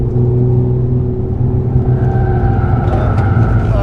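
Renault Mégane 4 RS Trophy-R accelerating hard on a circuit, a loud in-car engine drone climbing steadily in pitch as revs rise, heavy low rumble throughout.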